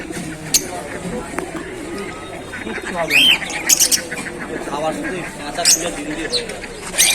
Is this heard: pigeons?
yes